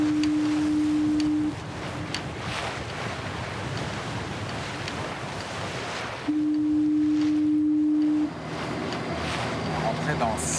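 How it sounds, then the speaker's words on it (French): Two long, steady foghorn blasts near St. John's, Newfoundland, the first about a second and a half, the second about two seconds, sounding over constant wind and surf. "On entend la corne de brume."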